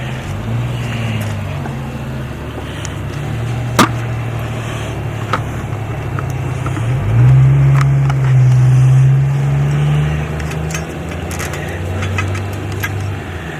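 A Honda ATC 110cc engine idles steadily nearby with a low throbbing hum that rises briefly in revs partway through, plus a few faint clicks.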